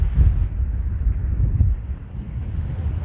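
Gusty sea wind buffets the microphone while fishing, low rumbling bursts rising and falling over a few seconds, with no clear voices.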